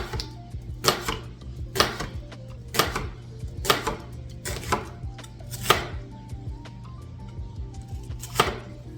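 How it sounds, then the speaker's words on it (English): A knife chops onions on a board, sharp evenly spaced strokes about once a second, close and fairly quiet over a low steady hum. "just getting these onions cut up"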